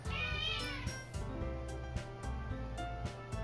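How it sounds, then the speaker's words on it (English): A domestic cat meows repeatedly over music, the calls short and close, rising above a steady layered backing track from a visual novel game. "That's my cat."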